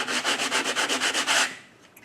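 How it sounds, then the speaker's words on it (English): A sanding block rubs back and forth across wood to remove saw marks, giving about a dozen quick, evenly spaced rasping strokes, close and loud, then stopping. "I'll put it on fast mode, but you'll see me sanding."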